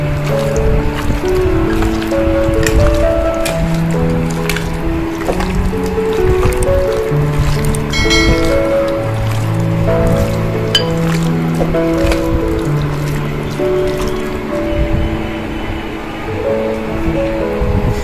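Chicken pieces are worked by hand in a wet marinade for kizhi parotta, making close, continuous squelching and squishing under steady background music.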